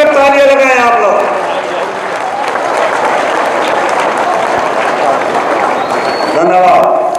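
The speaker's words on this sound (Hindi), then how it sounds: "जरा जोर से खड़े होकर तालियां लगाएं आप लोग" A standing crowd at a political rally in Barwala claps loudly and steadily for several seconds, the dense applause swelling between stretches of a speaker's voice at the start and end.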